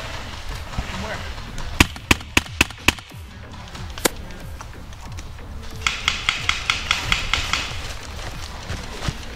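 Gunfire in a first-person shooter video game, with sharp shots cracking in short bursts, a quick cluster early on followed by a faster rapid string later, over steady game noise and a talking voice.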